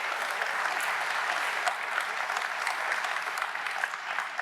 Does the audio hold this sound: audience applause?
yes